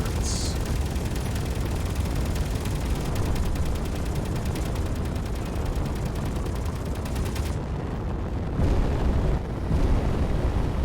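Turret fire in the space game Space Engineers, aimed at interior turrets, forms a rapid, steady stream of shots that continues for several seconds before giving way to quieter, scattered bursts.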